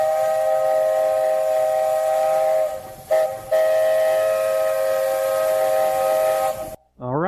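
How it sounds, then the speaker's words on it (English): Walt Disney World Railroad steam train whistle, a loud, sustained chord that breaks briefly and resumes, then cuts off abruptly before a short rising tone closes. "That is the steam trains at the Walt Disney World Railroad."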